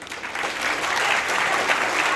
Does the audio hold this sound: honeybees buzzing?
no